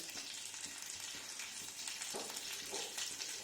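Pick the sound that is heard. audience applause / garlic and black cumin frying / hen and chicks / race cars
garlic and black cumin frying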